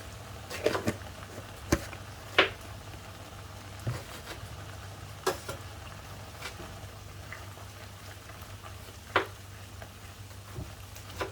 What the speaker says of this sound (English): Fry it, let it cook until you see the oil coming out a bit